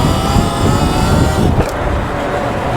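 Sur Ron electric dirt bike popping a power wheelie on a street, heard as a loud, close rush of wind and road roar with a steady whine, briefly dipping mid-way before resuming.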